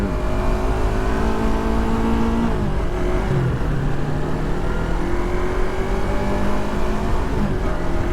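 A Yamaha R25 motorcycle engine drones loudly and steadily from up close while riding, its pitch dipping as the revs drop and then climbing again, with wind roar throughout.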